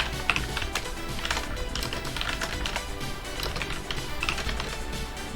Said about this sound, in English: This keyboard is not easy to type on.